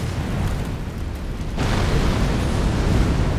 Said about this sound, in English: that explosion goes really high